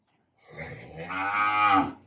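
A cow mooing on a farm where a cow and calf are for sale, one loud, close, drawn-out moo that swells and then cuts off, with no talking.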